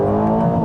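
A 2025 Aston Martin Vantage engine gives a loud, dense, steady harmonic roar for a brief moment, close up and with no talk.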